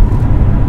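BMW X1 xDrive 25e plug-in hybrid pulling away as its engine cuts in right after a brief electric start, a short loud low rumble with no talk.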